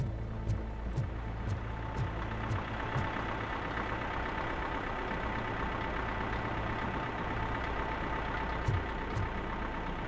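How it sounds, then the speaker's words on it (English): A small diesel engine idles in the RoboCop video game, a steady low rumbling drone with a faint knocking pulse, accompanied by sparse ticking clicks, continuous and moderately loud throughout. "Sounds like a little diesel engine,"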